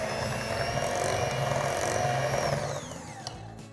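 An electric mixer runs on low speed through vanilla extract and sugar, giving a steady close motor whir that cuts off near the end and leaves faint room noise.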